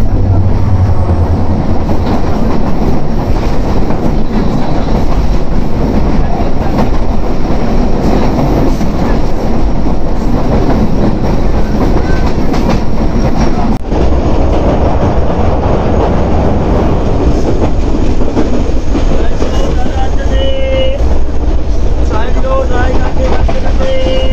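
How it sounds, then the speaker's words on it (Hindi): A train led by an NLC locomotive passes close by, a loud steady rumble and rattle of wagons lasting throughout, with a voice speaking over it. "ट्रेन आ रही है सिर्फ मेरे सामने से बिल्कुल एनएलसी का लोकोमोटिव लीड पर"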